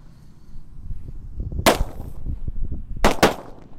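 Loud sharp cracks of 'tongkat kera kaget' firecrackers, three lit at once, go off, one burst followed later by two quick bangs, over low crackling and background rumble.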